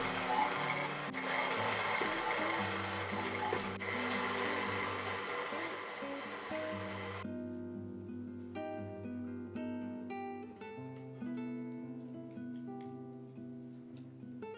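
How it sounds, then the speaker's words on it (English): A stand mixer with a dough hook kneads sourdough tortilla dough on low, giving a steady whirring motor with rubbing, scraping texture for about seven seconds. It then gives way to quieter, tonal pulsing. "Now we're gonna mix on low for 5 minutes or until the dough is nice and smooth and everything is incorporated."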